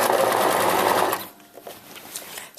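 A sewing machine stitches skirt seams past the seam allowance, running in a loud, steady close-up whir for about a second before stopping and leaving faint handling noises.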